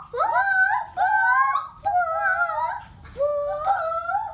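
A child imitates a chicken during a Simon Says game, voicing four clucking, warbling squawks in separate bursts, loud and near with no other talk.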